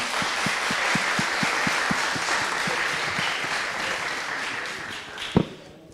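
An audience applauding at a hackathon final presentation, with continuous dense clapping and a low rhythmic thump running under it, then a single sharp knock near the end.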